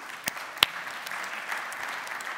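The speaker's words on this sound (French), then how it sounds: "je pense qu'on peut l'applaudir." Conference attendees at the OVH Summit 2013 general web session applaud softly. A few sharper claps stand out near the start over a faint, diffuse patter heard from a distance.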